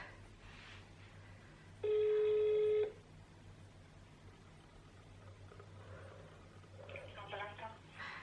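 A single steady ringback tone sounds for about a second while a phone call is being placed, with faint low hum around it and quiet background noise before and after.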